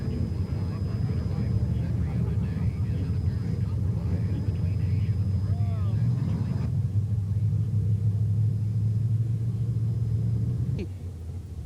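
Race cars roar around the fourth turn at Putnam County Speedway, a dirt track, as a continuous heavy engine rumble heard from a distance; the drone shifts in pitch partway through and cuts off near the end.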